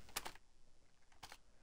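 Computer keyboard typing in two short bursts of rapid keystrokes, separated by a pause, fairly quiet and close, with no voices.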